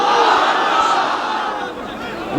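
A large crowd at an Islamic religious gathering answers a takbir call with a loud, unified shout of Allahu Akbar that rings out and slowly fades.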